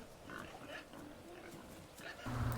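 Wild boar grunting in a scene from the TV show Outlander, a low rough snorting and grunting close by under a bed of background sound, swelling louder near the end.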